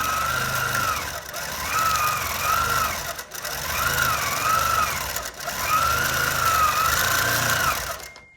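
A sewing machine running continuously while free-motion quilting feathers for an autumn-themed project, its loud steady mechanical whir rising and falling in speed with brief slowdowns, close up, then stopping at the end.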